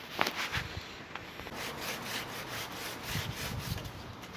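Rough, rhythmic rasping strokes of coarse sandpaper on a caravan surface, repeated back and forth at a steady pace, close and fairly quiet.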